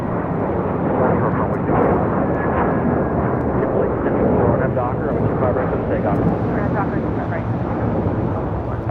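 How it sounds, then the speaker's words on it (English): A JetBlue Airbus A321 takes off from LAX bound for Miami with a loud, sustained engine rumble and roar that holds steady throughout, dense and close, with voices faintly mixed in. "2785 an A321 taking off to Miami, Florida"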